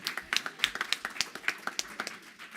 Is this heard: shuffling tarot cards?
no